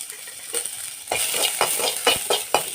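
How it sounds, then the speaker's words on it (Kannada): Onion frying in oil in a kadai, stirred in a steady rhythm of scraping strokes, roughly one every half second, over a close crackling sizzle with no speech. "ಫ್ರೈ ಮಾಡ್ಕೊಳ್ಳೋಣ ಈರುಳ್ಳಿನ."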